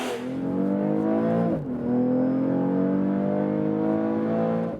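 A BMW X3 M40i facelift pulls away, its engine revving up through a gear change with a brief dip before climbing again, loud and close with no talking.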